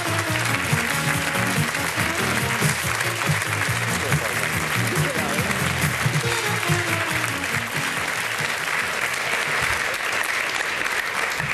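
Studio audience on a German television talk show claps to welcome a guest, steady dense applause continuing for several seconds at even loudness, close and full, with no talking over it.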